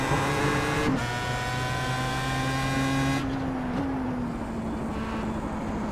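A Star Mazda race car in the iRacing video game brakes hard and downshifts from fifth to third, its steady engine tone dropping in abrupt steps with quick blips, then settling into a lower, gradually sliding drone.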